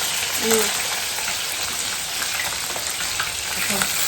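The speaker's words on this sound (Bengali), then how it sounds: "দাঁড়াও, মাছটা ভাজছি গো, আসছে।" Steady broadband sizzle of fish frying in a pan, continuous throughout, with a couple of faint brief tones near the start and end.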